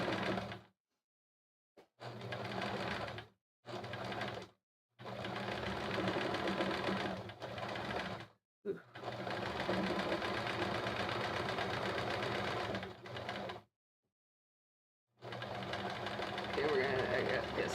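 A sewing machine doing free-motion quilting on stitch-along blocks runs in loud, steady bursts separated by short silent stops, its even mechanical hum repeating throughout.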